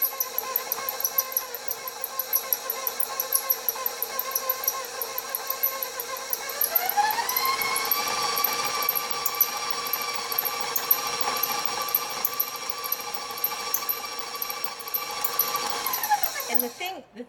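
An electric stand mixer whips buttercream icing with a steady whirring motor hum that climbs to a higher, faster whine partway through, holds there, then winds down and stops at the end.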